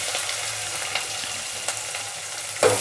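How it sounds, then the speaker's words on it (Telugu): Sliced onions with coarsely pounded ginger garlic paste frying in a pan for a cauliflower potato masala curry, a steady close sizzle broken by a few stirring scrapes and a louder clatter at the end. "ఉల్లిపాయ కొద్దిగా ఫ్రై కానిద్దాము, పచ్చివాసన పోయేంత వరకు"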